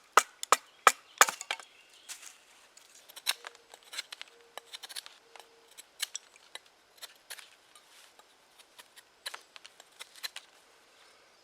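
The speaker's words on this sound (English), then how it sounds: "I'm going to use this board here just for batoning with." Sharp wooden knocks and splitting cracks come from batoning a wooden board apart for firewood, with a burst of close, loud strikes at first and then scattered, quieter taps and splintering.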